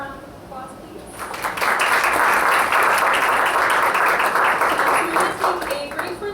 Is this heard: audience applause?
yes